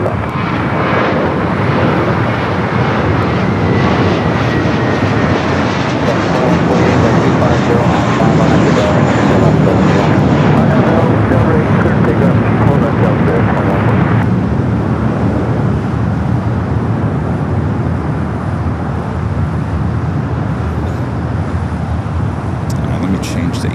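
Jet airliners taxi and take off from LAX, a loud sustained engine roar swelling and fading over the runway, with a brief whine partway through, with no voices audible.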